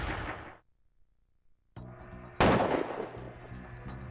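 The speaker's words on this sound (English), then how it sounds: "We just heard gunshots at the gas station." Two loud gunshots crack at a gas station, separated by a short silence, each followed by a lingering echo.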